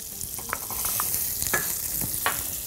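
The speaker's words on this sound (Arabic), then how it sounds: "هنفضل نشوح السلق لحد ما يبقى لونه غامق جدا" Garlic cloves and Swiss chard frying in butter in a pan, heard as a steady close sizzle with scattered light scrapes and taps of stirring, moderately loud and without speech.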